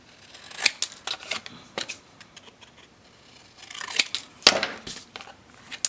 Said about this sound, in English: I'm going to trim the corners.